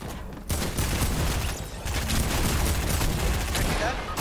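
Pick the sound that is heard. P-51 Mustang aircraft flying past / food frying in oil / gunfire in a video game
gunfire in a video game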